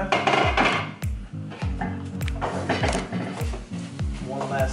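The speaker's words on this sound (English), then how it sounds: "One last stir." Metal utensil scraping and clinking against a pan while ground turkey and angel hair pasta are stirred, a steady run of close scrapes and taps under faint background noise.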